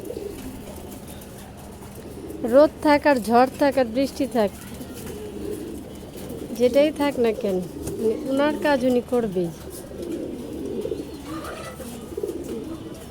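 Several rounds of deep, rolling pigeon coos sound nearby in a yard, each bout lasting a couple of seconds, while someone talks over and between them.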